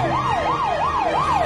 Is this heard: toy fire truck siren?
yes